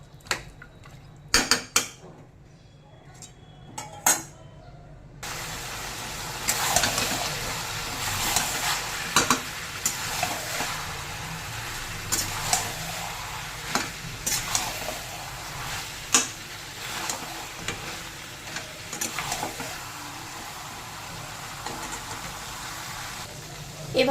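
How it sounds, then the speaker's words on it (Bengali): Marinated mutton for a thin curry being stir-fried in a pan, a continuous sizzle with frequent clinks and scrapes of a metal spatula against the pan, close and moderately loud, following a brief quieter stretch of clatter at the start. "এবার মাটনটাকে মিনিট 10 মতন একটু কষিয়ে নেব।"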